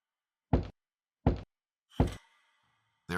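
Three slow, evenly spaced knocks thud on a door in near silence, the last one followed by a faint lingering ring before a fourth begins.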